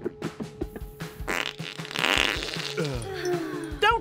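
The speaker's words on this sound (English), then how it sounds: "Don't fart on my flowers, you gassy oaf!" A cartoonish fart sound effect from a gassy Madballs character stretches into a long, wet, sputtering blast over playful music, with a squeaky flourish at the end.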